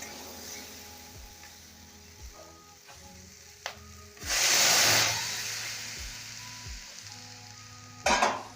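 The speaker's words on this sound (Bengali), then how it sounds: "এবার আমি এর মধ্যে জল ঢেলে দিলাম।" Water poured into hot fried spices for a mixed vegetable curry bursts into a loud, hissing sizzle midway, settling into a softer steady frying hiss, with a few clinks of utensils before and after.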